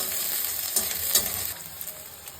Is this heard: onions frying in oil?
yes